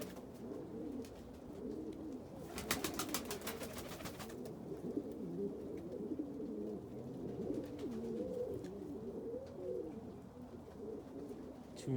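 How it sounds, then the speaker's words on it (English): Bald-head pigeons, a cock and a hen, cooing nearby in soft repeated throaty rolls, with a brief rapid flutter of wing claps in the middle, over a quiet background. "It's a bald-head cock bird, and that's a hen."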